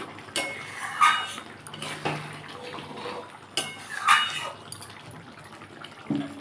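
A spoon stirs moong dal with ridge gourd and a little ghee in a pot, producing several separate metallic clinks and scrapes against the pan with quiet gaps between them and no voices.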